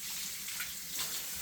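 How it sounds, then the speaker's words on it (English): Water streams from a tap into a bean can to rinse it out for crockpot cooking, a steady, close splashing rush that continues evenly throughout with no talking. "She kind of puts a little water in there to rinse it out"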